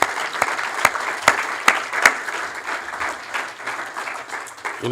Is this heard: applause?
yes